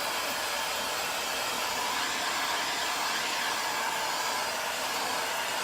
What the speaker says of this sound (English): So you can speed it up a little bit with the heat gun